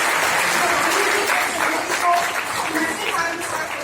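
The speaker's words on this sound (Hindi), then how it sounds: "तो एक बार जोरदार तालियां यहाँ पर" An auditorium audience applauds at a Hindi event, giving continuous dense clapping that stays close and loud, with a voice faintly underneath.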